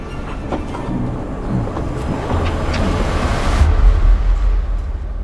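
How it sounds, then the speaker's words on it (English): A train gets moving on a rail journey from Morocco to Mauritania, with a continuous rumbling, rushing roar of wheels and carriage that builds in low-end weight toward the end, heard from inside without talk. "We made it onto the train."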